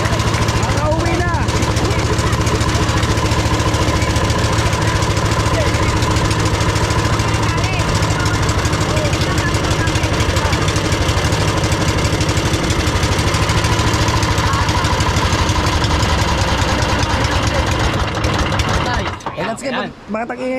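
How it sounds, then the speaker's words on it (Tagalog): A motorcycle engine runs noisily after a spark plug repair, idling with a constant rough mechanical drone throughout and cutting out near the end. Voices talk over it. "Bakit ang ingay na makina mo?"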